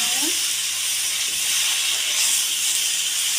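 Potatoes frying with dried fish in a pan, a loud, steady, close hiss and sizzle that holds evenly throughout with no pause.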